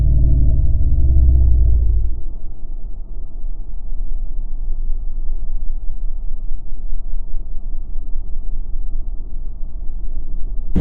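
Low, heavy rumble of road and engine noise inside a car driving through a storm in Raleigh, loud and booming for the first two seconds, then settling into a steadier, duller drone.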